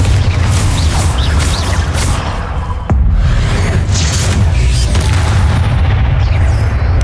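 A Bombarda explosion spell booms in Hogwarts Legacy, one heavy blast landing midway through loud, continuous combat noise with a deep rumbling low end.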